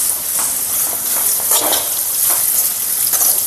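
Garlic and flattened rice frying in hot oil for an avalakki snack, with a steady dense sizzle and occasional stirring scrapes, close and fairly loud, no voices.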